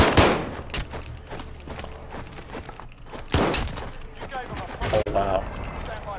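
Shotgun blasts in Warzone ring out as irregular heavy booms amid scattered gunfire and thuds, with players talking over the fight.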